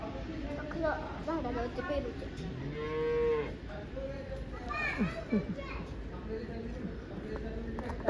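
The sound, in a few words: cattle mooing at a farm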